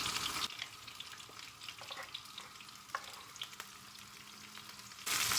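Red and green peppers, taken from the freezer, frying in sunflower oil in a pan: a steady soft sizzle with occasional pops and scrapes, a louder burst of hissing at the start and end.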